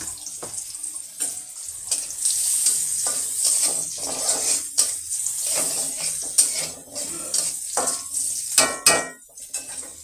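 Onion sizzles in hot oil after fish frying amid stirring and scraping in a pan, with clinks of utensils and bursts of crackling.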